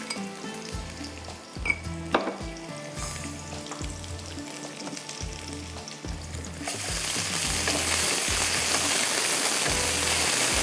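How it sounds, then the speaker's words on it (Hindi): Coarsely chopped ginger and garlic frying in a pan over a high flame for spicy shrimp chow mein: low stirring knocks over a hiss that swells into a loud, steady, close sizzle for the last few seconds. "इसके साथ ही आपने इसको फ्राई करना है ज़्यादा तेज़ आंच पर"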